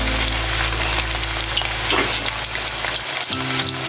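Manchurian balls frying in hot oil and being stirred gently, a steady close sizzle with soft crackling that stays loud and constant throughout, no voices.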